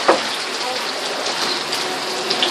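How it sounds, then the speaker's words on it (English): Steady rain falls during a thunderstorm in Bakersfield, California: a continuous broadband hiss of drops hitting surfaces, even and moderately loud, with a brief louder patter at the start and no talking. "Currently raining in Bakersfield, even though Miles Musial said we're not gonna have rain. It's raining."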